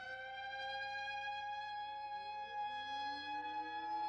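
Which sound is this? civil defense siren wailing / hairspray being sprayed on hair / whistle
civil defense siren wailing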